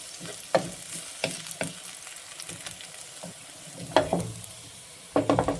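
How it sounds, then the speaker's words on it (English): Sliced onions fry in oil in a pan with a steady crackling sizzle, broken by sharp clinks and scrapes of stirring at irregular intervals, close and without any talk. "let's fry the onions with some oil"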